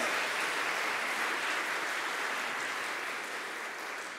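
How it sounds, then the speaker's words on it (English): Dense, sustained applause from the audience at a Celtic Christmas concert by a memorial pipe band, an even wash of many hands clapping that holds steady throughout and eases slightly near the end. "Are we going to applaud those streaming?"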